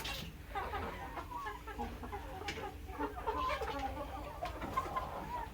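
Desi chickens on a poultry farm, led by a top rooster, cluck and call continuously at moderate distance over a low, steady farm hum.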